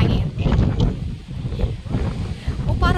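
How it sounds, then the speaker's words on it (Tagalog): Strong coastal wind at the Giant's Causeway, buffeting the microphone in heavy low rumbling gusts that persist throughout, with faint voices mixed in. "lakas ng hangin"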